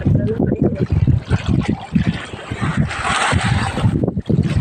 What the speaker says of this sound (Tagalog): Nandiyan na ang alon.